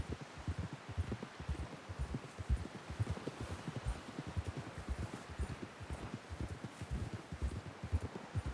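Horse hooves clip-clop at a steady walking rhythm in Red Dead Redemption 2, the video game, repeated close thuds with faint rustling underneath and no voices.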